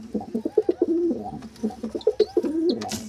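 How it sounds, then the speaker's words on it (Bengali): Pet pigeons coo close by in repeated soft, throaty phrases, one bout after another, with a few faint chirps in between. "আমি আমাদের পায়রাদের দেখিয়ে দিই"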